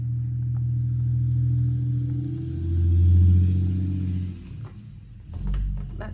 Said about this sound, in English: I don't know if you could hear, but my neighbors all have loud trucks.